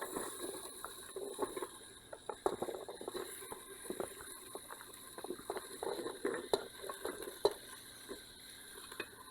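Beetroot, cumin and jackfruit seeds stirred in a pan for Kerala-style aviyal, an uneven run of scraping spoon-on-metal knocks and clinks over a faint sizzle, close and fairly quiet.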